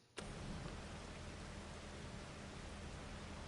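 Rain falls in the Farming Simulator 25 video game, a steady dense hiss that starts abruptly and continues evenly at a moderate, faint level without any talking.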